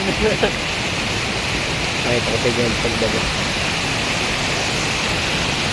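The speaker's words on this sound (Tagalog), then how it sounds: "Bibidyo ko lang yung talon na yun." Broad, steady rush of a waterfall in a river setting, loud and continuous throughout, with someone talking briefly over the roar.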